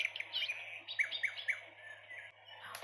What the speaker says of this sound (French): Je vais prendre bruit d'oiseaux.